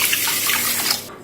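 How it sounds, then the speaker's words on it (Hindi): A glass of water poured into a metal cooking pot holding 100 grams of sugar, a loud, close, rushing splash that runs steadily and cuts off near the end, with no talk. "1 गिलास पानी डालूंगी।"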